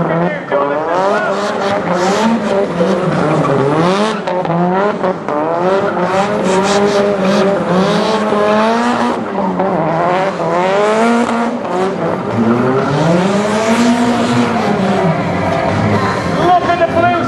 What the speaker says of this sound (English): I wonder if the motorcar can do donuts as well.